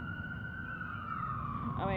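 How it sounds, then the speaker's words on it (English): A steady ambulance siren tone whose pitch slowly drops as it passes, with traffic rumble underneath and a voice faintly present. "That's an ambulance passing me by"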